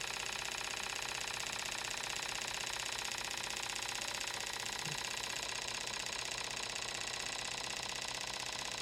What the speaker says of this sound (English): You'll hear the motor speed up